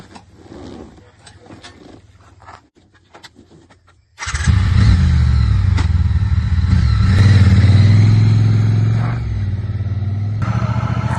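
A Triumph Bonneville T120 motorcycle engine starts up loudly after a few seconds of quieter sounds, then runs with a steady, rising roar close by as the bike is ridden.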